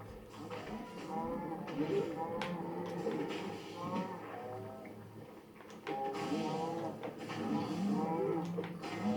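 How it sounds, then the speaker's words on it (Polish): Cows in the video game Minecraft Dungeons mooing repeatedly over game noise, several overlapping drawn-out moos rising and falling, with someone talking intermittently in Polish. "Dużo tu jest tych krów teraz"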